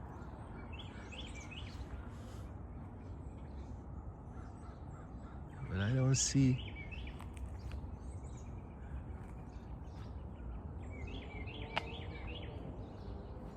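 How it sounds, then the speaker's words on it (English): Crows caw outdoors on a quiet morning, a short burst of loud, harsh calls around the middle, with faint scattered chirps and a brief spoken remark over steady background noise. "the birds are active. You can hear them singing."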